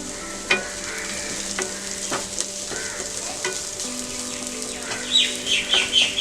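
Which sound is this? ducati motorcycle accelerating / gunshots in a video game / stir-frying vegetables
stir-frying vegetables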